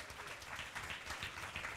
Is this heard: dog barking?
no